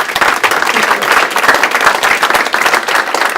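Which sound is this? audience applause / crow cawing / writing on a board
audience applause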